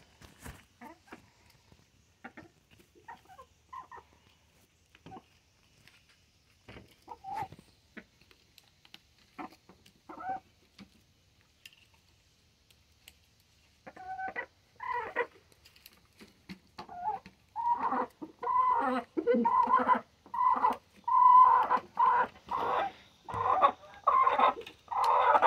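Hens cluck faintly at first, then grow louder and busier in a run of short, close clucks toward the end, with no talking.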